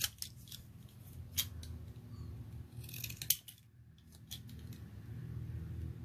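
Decorative craft scissors snip through paper in a quick series of crisp cuts, close and fairly quiet, over a low steady room hum with no talking.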